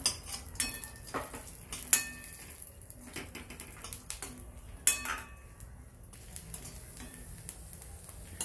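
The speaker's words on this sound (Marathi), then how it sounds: "याला आता काढून घेऊ आपण आणि खोबरं परतून घेऊ" Grated coconut roasting in a little oil in a kadhai with light sizzling, the scrape and clink of a spoon stirring against metal at irregular moments, close by.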